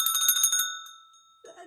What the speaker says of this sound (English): Have you rung the bell?